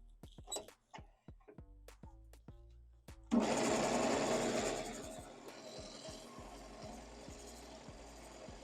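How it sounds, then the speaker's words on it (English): A negative rake scraper cuts along the outer wing edge of a wooden bowl spinning on a lathe, first a run of sharp separate ticks, then a loud sustained scraping hiss that gradually fades. "I'm going to take my negative rake scraper and work this wing"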